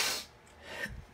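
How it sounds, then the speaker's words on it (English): A single short sniff through the nose, close and fairly quiet, followed by a brief throat sound at the end. "And a sniff."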